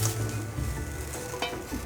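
Squeezed, salted cucumber stir-frying in a little cooking oil and sesame oil, a dense continuous sizzle close up with faint utensil scrapes, brief and without talk.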